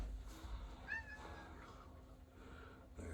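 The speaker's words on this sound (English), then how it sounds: "There goes a kitty." A house cat meows once, a short rising-falling cry against steady indoor background hum, fairly close and moderately loud, with no talking.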